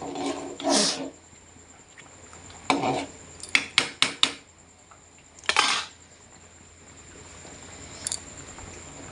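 A ladle scrapes and clinks against a metal pot while stirring fried spice masala for khichuri, several sharp metallic knocks and scraping strokes in short bursts, close and clear, separated by quiet sizzling.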